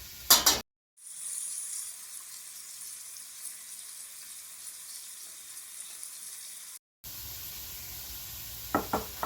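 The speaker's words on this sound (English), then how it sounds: "we are going to sear these just until they are pink" Shrimp searing in a hot pan for shrimp fra diavolo, a steady broadband sizzle held for several seconds between brief louder kitchen clatter, with no talk over it.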